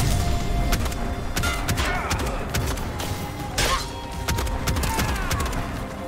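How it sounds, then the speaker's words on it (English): Rapid video game gunfire from a shooter crackles in dense bursts and scattered cracks throughout, with sharp impacts and a voice talking over the shooting. "Who's shooting at me?"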